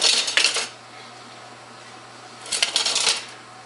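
Metal serving spoon clinks and scrapes against a dish while scooping bacon cheeseburger casserole, two short clattering bursts separated by a quiet pause, close and fairly loud.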